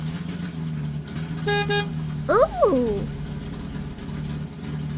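A shapes truck toots its horn in a short double beep, then a whooshing, swooping motor sound rises as it drives up over a steady engine hum, with a brief exclamation from a voice.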